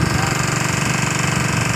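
A motor-driven rig drilling a bore well in a dry-season rice field runs loud and close, a rough pulsing mechanical rattle with a steady rapid beat and no pause.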